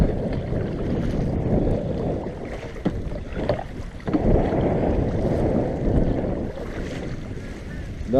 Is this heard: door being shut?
no